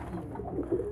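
A pigeon gives soft, low coos at close range, a brief murmuring burble in a quiet indoor setting while being handled for diarrhea treatment.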